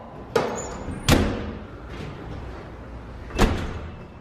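An apartment door in Seoul gets pushed and slammed shut, with three sharp bangs, each followed by a short rattle, separated by quiet pauses and faint room noise.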